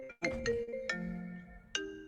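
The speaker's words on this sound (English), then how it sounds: "sorry, got a phone call." A phone's ringtone goes off mid-interview about directing a music festival: a bright melodic tone sounds in three separate bursts, close and fairly loud, with no talking over it.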